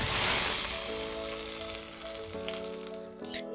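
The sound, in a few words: tempering oil with mustard seeds, cumin and curry leaves sizzling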